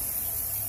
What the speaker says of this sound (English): And we're going to spray this board.